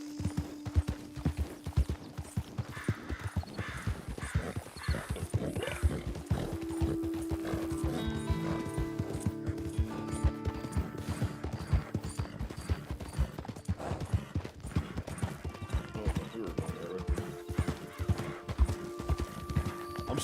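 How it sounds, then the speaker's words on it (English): Horse hooves clip-clopping steadily in a video game, a dense close rhythm running throughout with a couple of neighs and faint game music underneath. "I'm still so bad at driving horse."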